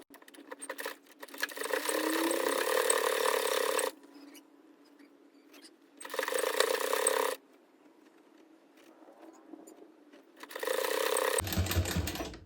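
A sewing machine stitches along the edge of a piece of cloth in three steady runs of fast, even needle clatter, separated by short quiet pauses, with a faint click at the very end.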